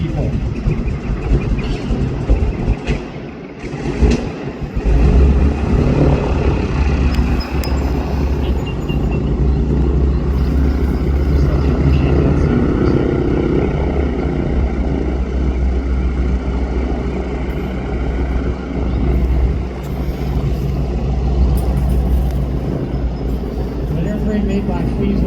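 A V-1 buzz bomb pulse jet engine running at a static demonstration, a loud, continuous throbbing roar that holds steady and close throughout, with no voices over it.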